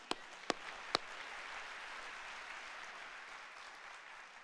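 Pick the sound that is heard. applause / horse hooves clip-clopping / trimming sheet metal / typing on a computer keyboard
applause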